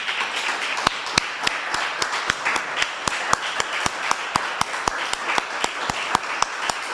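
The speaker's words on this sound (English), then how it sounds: "I think we need to give this gentleman another round of applause" Slow, evenly spaced claps, roughly three to four per second, sound over faint background murmur in an audience applauding a speaker after a theology talk.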